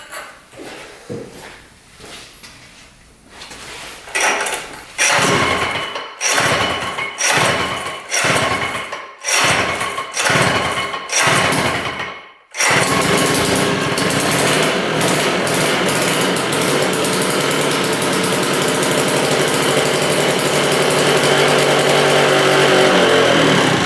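A 1970s two-stroke mini bike engine sputters and surges in uneven, repeated bursts with brief dropouts, then catches and holds a loud, continuous buzzing run close by.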